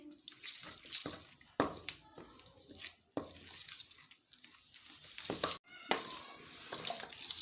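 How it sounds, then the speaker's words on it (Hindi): Water is added a little at a time to gram flour batter for kadhi pakora while it is stirred, giving soft wet splashing and sloshing in bursts with short pauses between strokes. "इसमें आपने थोड़ा थोड़ा पानी शामिल करते जाना है और इसको घोलते जाना है ताकि इसमें कोई गुठली ना बने"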